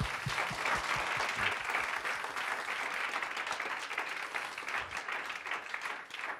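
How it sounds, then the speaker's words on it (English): An audience applauds steadily at the end of an evening talk on Australia's conservative movement, a sustained wash of many hands clapping that continues throughout without any voices. "So please, join me in a round of applause."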